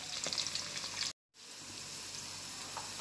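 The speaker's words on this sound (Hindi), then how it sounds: "लाइट ब्राउन कर रही हूँ मैं प्याज को" Onions frying light brown in oil in a home kitchen, a steady close sizzle with faint crackles, broken by a brief silent gap partway through.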